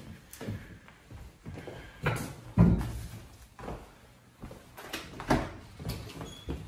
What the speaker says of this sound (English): Let's go out the back door.